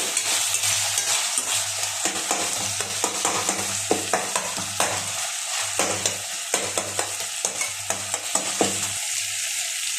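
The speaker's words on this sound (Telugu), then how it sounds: "టమాటోస్ కూడా ఒక పది నిమిషాలు స్లో ఫ్లేమ్లో వేయించుకోవాలండి" Tomatoes fry on a slow flame with a constant soft sizzle, while a utensil stirring the pan adds repeated scraping clicks throughout.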